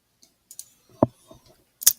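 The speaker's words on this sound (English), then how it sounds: "I'm going to click on assign." A computer mouse clicking in a quiet room, a handful of faint, sharp, separate clicks spread out irregularly, with one louder click near the middle and another at the end, no voices.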